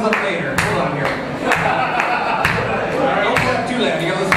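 Audience clapping along in steady rhythm to a live performance of a satirical song about Ron Paul, sharp regular claps repeating about twice a second over music and singing.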